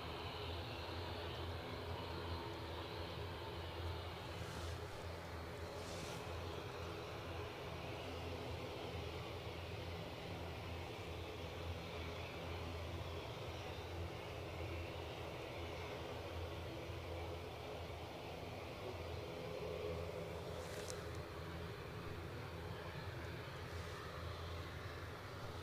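An ATR turboprop approaches to land at Edinburgh Airport, a faint, steady distant engine drone rumbling throughout with little change.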